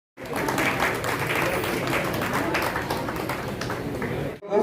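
An audience at a political welcome event claps together, a dense and fairly loud wash of many hands that runs steadily for several seconds before cutting off abruptly.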